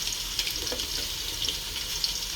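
Onions frying in hot oil with a little salt added, a steady bright sizzle running continuously at close range with small crackling pops, no voices.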